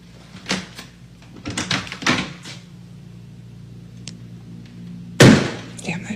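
A few light knocks and taps come first, then an indoor door is flung open fast with one loud, sharp thunk near the end.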